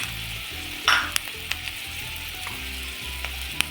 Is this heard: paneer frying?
yes